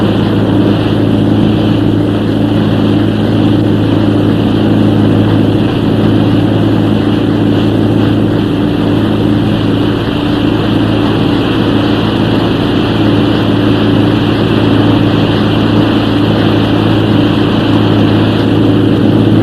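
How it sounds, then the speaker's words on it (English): A propeller aircraft engine drones loudly and steadily throughout, a constant close rumble with no breaks. "She's in great shape, Lorna. Just listen to that engine. Sounds fine."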